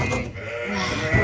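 A single ewe on a farm gives a short, loud bleat close by, with no speech.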